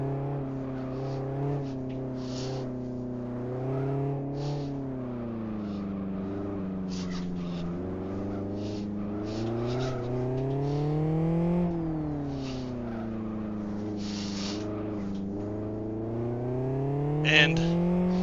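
A tail-happy car's engine in a racing sim drones steadily for the whole stretch, its pitch swooping up and down with throttle and shifts, with faint tire noise and occasional clicks over it.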